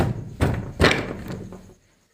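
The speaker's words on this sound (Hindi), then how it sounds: "ये मैंने खोला अपना पीछे का दरवाज़ा" A back door of a village house being opened, a couple of dull wooden thumps and knocks followed by a brief scraping rattle, fairly close and quiet with no talking.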